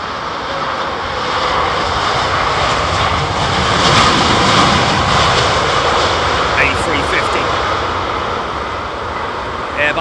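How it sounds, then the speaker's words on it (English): An Airbus A350 airliner at London Heathrow Airport produces a steady, loud engine roar that swells slightly mid-clip and then holds, broadband and continuous throughout, with faint voices in the background. "Airbus A350."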